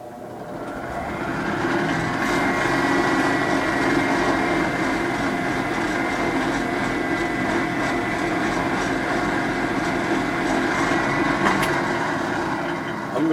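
A 12-speed bench grinder run at its top speed of 3100 RPM with green compound, sharpening a steel knife: a steady, loud, continuous motor whine with a high grinding hiss that holds without pause throughout.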